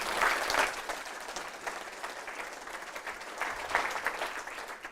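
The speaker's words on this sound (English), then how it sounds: "May I have a big applause, please?" Audience applause at an auditing conference session, a steady wash of many hands clapping that swells at the start, eases, then rises again toward the end, moderately loud and continuous throughout.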